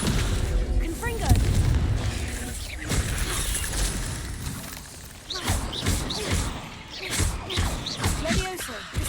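Confringo blast spells cast in the video game Hogwarts Legacy, a string of booming bursts and thuds under spoken spell incantations, with dense game effects and music filling the background.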